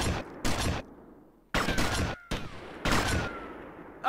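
Gunfire in the video game Grand Theft Auto: Vice City, heard as loud, close bursts of rapid shots in several separate volleys with brief gaps between them.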